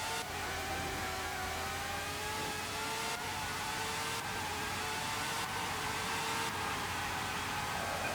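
Formula 1 race car engines in the 1997 video game Formula 1 97, a continuous loud high-pitched whine with rising and falling revs and no speech.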